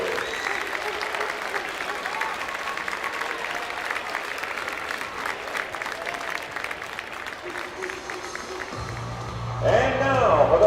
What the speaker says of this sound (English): please stand and show your appreciation by giving a round of applause for these outstanding officials